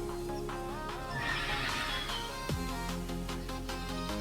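A horse in Palworld neighs and whinnies over game music and effects, with faint clip-clop hooves as it trots off, fairly close and steady.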